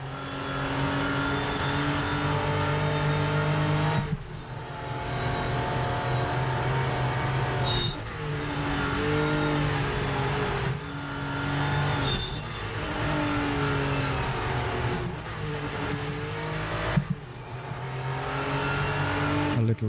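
Racing cars in a video game roar through a track, engines revving up and dropping sharply as they brake into corners, with repeated downshifts and a faint tire squeal, loud and close throughout.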